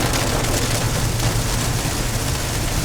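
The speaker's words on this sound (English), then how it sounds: "How long would you expect it to rain?" Steady rain pours down around a car driving in Costa Rica, a dense, even hiss with a low rumble of road and engine noise underneath, constant and close throughout.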